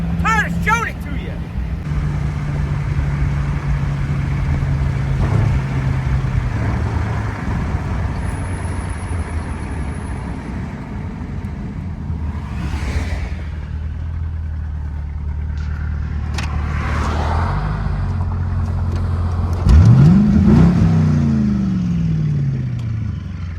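A service truck's engine drones steadily as it drives, with low rumble throughout and a rising rev and shift near the end; a person talks over it at times.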